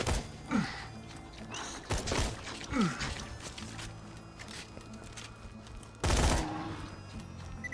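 Video game gunfire crackles in short bursts of sharp shots with mechanical clicks between them, over a steady background of game noise, with a louder blast near the end.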